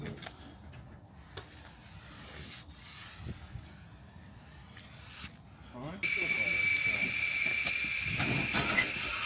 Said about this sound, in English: take the valves out of the tyres and just release the air that had been in there for God knows how long